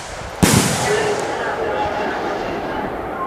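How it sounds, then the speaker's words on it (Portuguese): A firework rocket goes off with one sharp crack near the start, followed by a long fading hiss and crackle that slowly dies away. "Vou botar o rojão aqui agora, que nem eu fiz, não."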